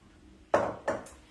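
A medium mixing bowl is lifted and set back down on a kitchen counter while oatmeal cookies are being made, giving two close, hard knocks about a third of a second apart, each ringing briefly, with a fainter tap just after.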